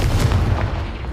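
Confringo spell blast in the Hogwarts Legacy video game, a single loud, deep explosive boom with a rumbling low-end tail.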